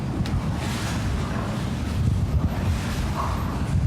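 Floodwater pours over a street drain in a flooded New Orleans side street, a continuous rushing wash mixed with wind buffeting the microphone, no talking.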